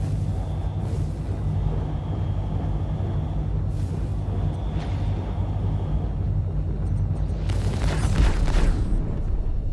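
Missiles striking a ship in a space combat video game: a few booming impacts rise over a steady engine hum, with the loudest burst of explosion noise near the end.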